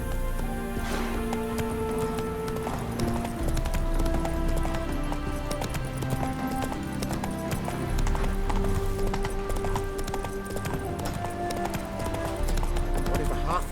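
Galloping horse in The Witcher 3 video game, rapid rhythmic hoof clopping running steadily throughout, layered with game music and occasional voices.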